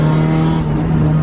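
A Mazda Miata drives with a steady engine drone and a strong low hum, loud and close throughout, without voices.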